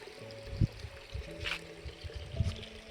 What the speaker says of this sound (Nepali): यताबाट पानी आइरहेको छ